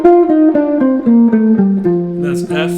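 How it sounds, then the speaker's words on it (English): A melodic instrument plays an F Mixolydian scale for a jazz solo, eight distinct stepwise notes descending one at a time in an even rhythm, loud and close with nothing else heard. "And the F Mixolydian scale sounds like this."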